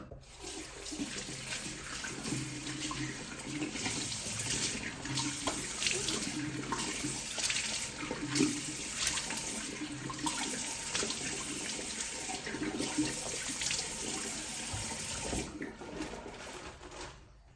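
Tap water runs steadily into a bathroom sink while a face is washed, a continuous close hiss and splash with slight shifts in flow, lasting throughout with no talking.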